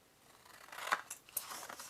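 Scissors snipping through scored paper while assembling a photo brag book, a few crisp close cuts and rustles against a quiet background, with no talking.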